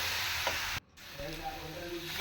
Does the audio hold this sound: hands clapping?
no